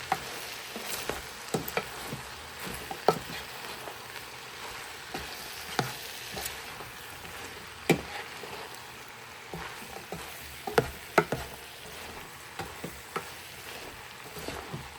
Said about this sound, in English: So you're just going to mix that cabbage up in there.